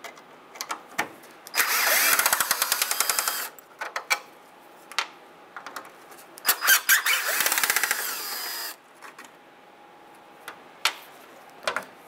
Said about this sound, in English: We're going to remove these two top Phillips screws.